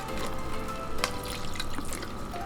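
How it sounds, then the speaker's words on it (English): A little water poured into a pot of adobo chicken, giving a steady, soft trickle and splash that runs continuously at close range with no talk over it. "let's put a little bit of water, guys"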